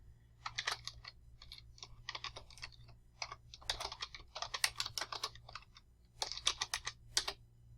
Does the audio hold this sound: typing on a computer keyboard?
yes